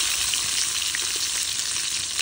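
Onions frying in hot mustard oil with whole spices such as peppercorns and cloves for chicken biryani, a steady, dense sizzle heard close up and alone throughout.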